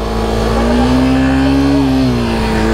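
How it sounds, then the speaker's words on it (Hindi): A motorcycle engine revs hard and close during a burnout, a loud sustained roar that swells and dips slightly in pitch without a break. "ये बर्नआउट मारते मारते निकलते हैं ना तो मैं भी वैसे ट्राई करूंगा। ये चेक कर रहे हो भाई बर्नआउट"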